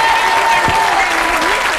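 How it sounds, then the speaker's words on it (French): A studio audience claps loudly and continuously for a performer on a French talk show, a brief dense burst of applause with faint voices underneath. "On peut l'applaudir."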